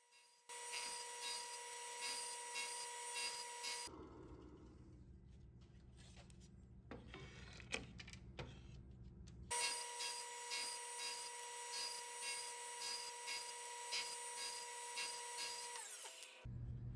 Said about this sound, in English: we're just gonna go ahead and get all the rest of these cut real quick on this table saw